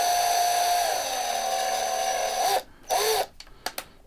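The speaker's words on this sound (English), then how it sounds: "I start out with the small drill bit, drill down the post" A small drill bit boring down the post of an 85 IROC Camaro Hot Wheels die-cast car, a high steady whine that dips as it loads, then stops and restarts in short bursts.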